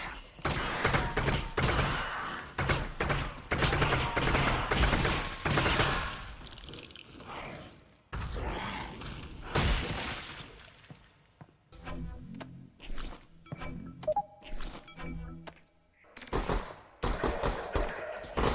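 Rapid bursts of gunfire at antlions in the VR game Half-Life: Alyx, played on a custom map. Dense automatic fusillades come in long stretches, then break into shorter scattered shots with brief pauses.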